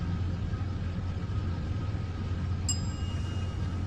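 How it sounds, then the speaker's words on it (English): A low, steady truck engine rumbles at idle in American Truck Simulator, with a brief faint ding partway through. "That is the sound of a gas guzzler."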